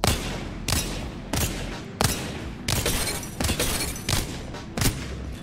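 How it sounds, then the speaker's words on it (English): Gunshots fired at firing range dummies in Apex Legends, roughly eight sharp, loud bursts at a steady rhythm, each trailing into a short ringing tail. "So you're just going to practice shooting back and forth just like this."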